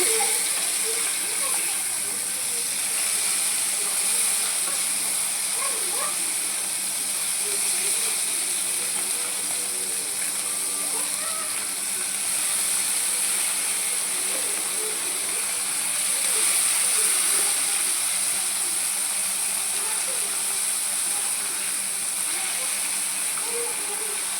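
Fish frying in hot oil, a dense steady sizzling hiss throughout with faint scattered pops, heard close and fairly loud.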